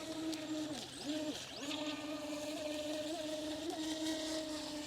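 A small brushless electric RC speedboat, an Eachine EBT04, whines across the water, its motor pitch sliding down and back up twice before holding a steady, buzzing drone.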